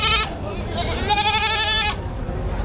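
Goats bleat loudly and close at a large goat market in Dhaka, two drawn-out wavering cries one after another over a noisy crowd background.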